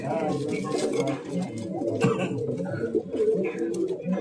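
Low, throaty pigeon cooing rolls on continuously, close up, with faint voices in the background.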